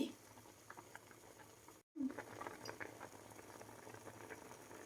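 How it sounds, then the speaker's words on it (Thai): Apple snail curry with cha plu and cha-om leaves bubbles in a pot, a faint, steady boil with light popping, broken by a short gap partway through. "เดือดแล้วก็ได้แล้วนะคะ"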